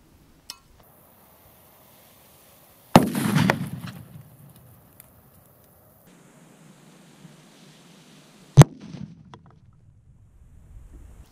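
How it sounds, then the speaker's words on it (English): A flash powder bomb blows apart a CO2 container inside a pumpkin, one sharp, loud blast with a rushing tail, then a second sharp crack later, set against quiet outdoor air. "So that flash powder was a much larger bang."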